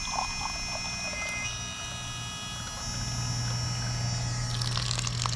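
Tap water runs steadily into a container, a close, continuous splashing stream that rises in pitch and fullness as the vessel fills.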